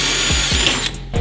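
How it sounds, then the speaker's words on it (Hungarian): A Kobalt power drill runs at steady high speed, a continuous whine with two short low clunks, then cuts off abruptly near the end; close and loud, no talk. "Egy koboldos fúrót előveszünk."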